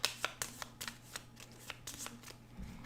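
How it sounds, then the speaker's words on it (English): Aeon's End game cards shuffled together by hand, with a quick series of close, crisp riffling flicks and snaps at an uneven rhythm and no speech. "just shuffle them together."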